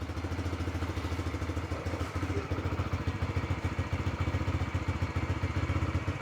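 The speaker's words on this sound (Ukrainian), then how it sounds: "Це перший старт взагалі мотоцикла." A Bajaj Freedom 125 motorcycle engine idles steadily on its first-ever start, a rapid, even low putter, close by and continuous, with no talking.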